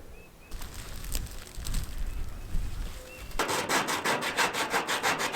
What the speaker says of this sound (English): now we are going to sand down the edges and put some rustoleum on it